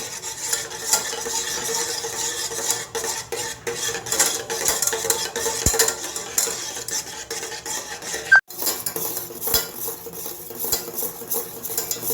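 Milk and egg payesh is stirred continuously in a pan over low heat, a steady scraping swirl of a spoon against metal with a faint simmer and an occasional sharp clink.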